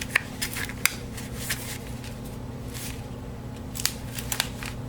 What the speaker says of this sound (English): I'm going to remove the other side of that adhesive.